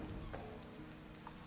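Steady rain falls throughout a scene in the video game Dead in Vinland, a continuous soft patter and hiss with a couple of faint brighter drops, no voices.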